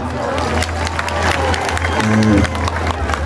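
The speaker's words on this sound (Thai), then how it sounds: "เสียงปรบมือหน่อยครับ" A concert crowd in Thailand claps and cheers, a dense patter of hands running throughout while a voice and sustained tones carry over the top.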